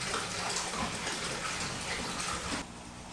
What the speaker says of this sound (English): I'm filling up the water in my sump with tap water